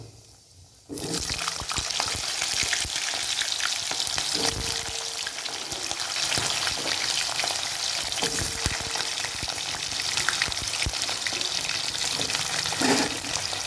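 Potatoes sizzle in hot oil in a pan for a vegetarian cauliflower and potato curry, a loud, steady crackling hiss that starts abruptly and continues throughout with faint stirring.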